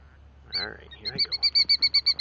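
Captive birds chirp in a quick, evenly spaced run of bright, loud tweets close by, after a few softer calls and a low background hum.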